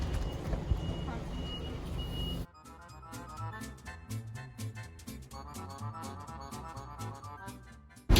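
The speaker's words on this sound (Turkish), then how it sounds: "Otobüs geldi arkadaşlar. Şimdi bineceğiz." A large, colourful city bus in Angers, France arrives and is boarded, with loud outdoor street rumble that cuts to a quieter interior of engine hum, door and boarding beeps, and clattering.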